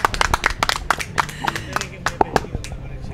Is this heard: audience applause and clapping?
yes